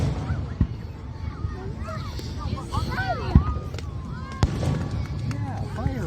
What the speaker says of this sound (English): Yeah, fireworks.